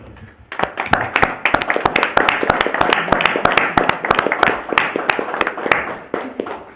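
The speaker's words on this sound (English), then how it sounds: "would all of the Utility Commission people who are here stand up and get a round of applause?" Applause at a city council meeting as utility commission members stand, with sharp, distinct hand claps from a modest group in a meeting room, close and sustained, with a few voices underneath.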